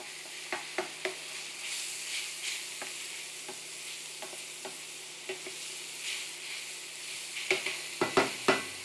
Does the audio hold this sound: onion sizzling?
yes